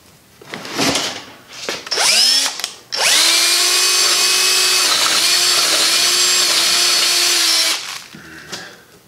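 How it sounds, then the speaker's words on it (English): A power drill boring a half-inch hole into a wooden Depression-era table, a few short starts followed by one loud, steady whirring run of about five seconds close up, then stopping. "and now we're going to drill."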